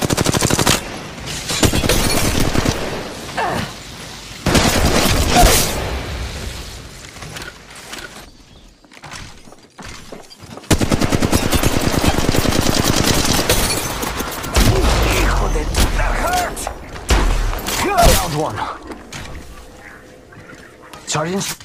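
Apex Legends Mobile gunfire comes as dense, loud automatic bursts and rapid shots in several long stretches with quieter gaps, close and continuous, mixed with game effects and occasional voice callouts.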